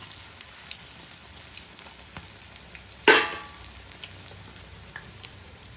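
Malabar spinach leaf fritters fry in hot oil over a high flame, giving a soft, steady sizzle that flares into one sudden, loud crackling burst partway through before settling back. No one speaks.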